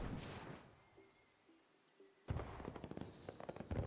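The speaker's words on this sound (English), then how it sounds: "I like the firework though. The firework's cool." Fireworks in the video game Disney Dreamlight Valley burst with a sharp crackling pop after a quiet stretch of faint tones, followed by a spray of fizzing, crackling sparks.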